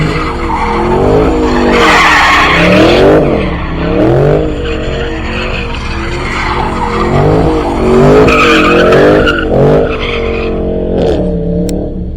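Loud tire squeal from a car doing a burnout on XXT wheels at a car meet, wheels spinning continuously for the whole stretch, with the screech rising and falling as the engine revs.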